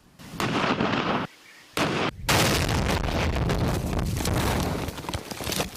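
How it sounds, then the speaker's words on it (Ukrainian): Heavy rumbling blasts and crackling bursts from explosions behind defensive lines in the eastern Ukraine conflict roll on almost without pause, with a brief lull in between, loud and dense like distant explosions. "А це вже вибухи в тилу оборони."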